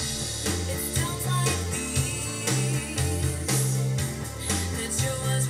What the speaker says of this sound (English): put some strings behind it, from some synthesised strings behind it